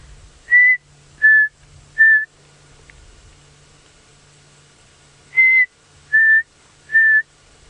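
A chinspot batis calls on a sunset safari drive: clear, loud whistled notes in two sets of three, each set descending slightly, separated by a quiet pause against faint background hiss.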